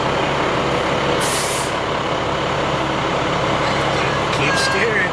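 A fire truck idles and rumbles as it is driven, with a sharp air-brake hiss early on and a few high squeaks near the end, while someone talks over the steady engine noise.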